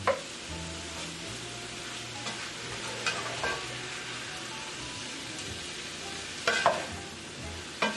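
Shrimp and sausage with vegetables sizzle and fry in a single pan, a steady close crackle broken by occasional louder stirring scrapes.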